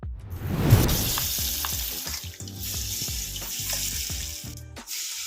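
Banana flower vadai dropped one by one into hot oil, a loud burst of bubbling at first, then a steady crackling sizzle with small clinks and plops, close by, no speech.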